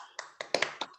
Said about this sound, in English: we can actually hear one another clapping